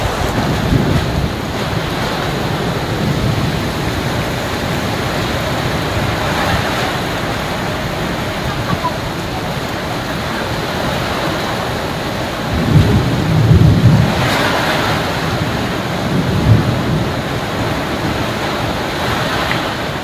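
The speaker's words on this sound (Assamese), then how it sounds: "বৰষুণ লাগিলে যিমান ডাঙৰ নিদিয়ক হ'বলৈ একো নাই কিন্তু লগতে বতাহটো নাহিলেই হয়" Heavy storm in a rural area with gusting wind buffeting the microphone, steady rain and rolling thunder, a loud continuous roar with stronger surges partway through and no speech.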